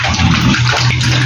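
Water gushes steadily into a pig's feeding trough, a loud, close, continuous pour with no break and no talk over it.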